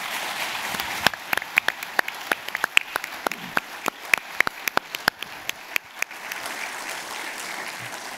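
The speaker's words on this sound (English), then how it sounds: "Can we give a round of applause for our panelists?" Applause from a conference audience at an Arctic Alaska Natives panel, thinning to scattered individual claps that stand out clearly before fading to quiet room tone after about six seconds.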